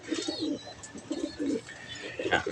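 Pigeons coo repeatedly nearby in soft, throaty bursts, with some faint chirping and background noise in between.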